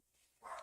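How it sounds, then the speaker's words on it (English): A short, faint dog bark sounds at a distance, a single brief yip after near silence. "My dog is barking."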